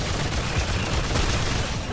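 Continuous gunfire and explosive blasts during a fight against an explosive enemy and axe throwers in the video game Remnant 2, a loud, dense barrage with no pauses.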